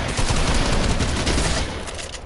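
Dense, continuous gunfire from a shooting video game, with rapid overlapping bursts that stay loud throughout and ease slightly at the end.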